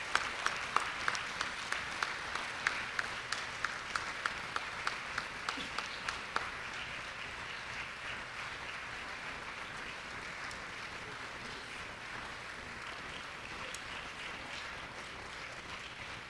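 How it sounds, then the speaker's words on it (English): A church audience gives a round of applause, dense and roomy, with a few sharp rhythmic claps standing out at first, then a steady even wash of clapping that carries on without talk. "won't we give them another round of applause?"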